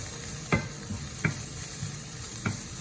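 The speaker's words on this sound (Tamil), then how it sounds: "வடிவாக கிளறி விடுவோம்." A spoon stirs vegetable rice frying in a pan, three distinct scrapes spaced about a second apart over a steady close sizzle, with no talking.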